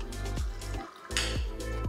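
Liquid is poured into a glass while a post-workout meal is made in a kitchen, a few short, close gurgling splashes broken by brief pauses.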